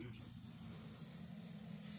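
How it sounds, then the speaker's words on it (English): Cleaner sprayed from a spray can, one steady broad hiss that runs unbroken for about two seconds, close and fairly loud. "So you're just gonna take it and you're gonna spray it"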